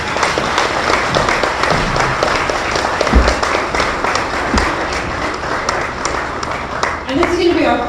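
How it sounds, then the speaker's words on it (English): Audience at a women's storytelling event clapping together in a steady, dense round of applause lasting throughout, fairly loud, with some voices mixed in. "a round of applause, please"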